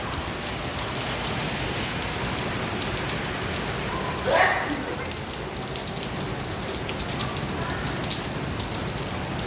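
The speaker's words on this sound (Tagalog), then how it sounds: "Lakas ng ulan." Dense, steady rain pouring down, a continuous hiss of drops, with a brief brighter swish in the middle.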